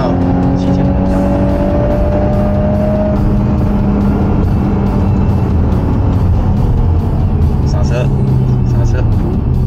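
A Volkswagen R car lapping a race track at full throttle, a loud continuous engine roar with rising and falling pitch as it accelerates and shifts, heard close from inside the cabin alongside someone talking.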